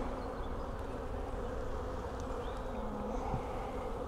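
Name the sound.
honeybees in an opened beehive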